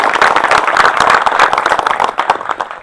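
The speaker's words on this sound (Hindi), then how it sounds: "भाई चंद्रशेखर आजाद जी के लिए एक बार जोरदार ताली से स्वागत और अभिनंदन करें" At an Azad Samaj Party workers' rally in Kechaki Sangam, a crowd breaks into brisk, loud applause welcoming a speaker, with dense clapping that thins slightly toward the end.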